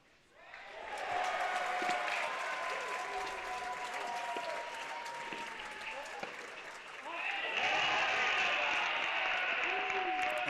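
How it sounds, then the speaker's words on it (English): A crowd at a men's college tennis match bursts into loud, sustained applause and cheering, rising after a quiet start and swelling again near the end, with scattered voices mixed in. "with every ball, the crowd here erupts"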